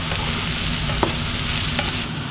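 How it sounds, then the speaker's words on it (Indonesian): Mushrooms torn into halves frying and sizzling in a pan while being stirred for vegetarian fried rice noodles with tofu, a steady close hiss broken by two sharp scraping clicks of the utensil. "Jamurnya kita aduk."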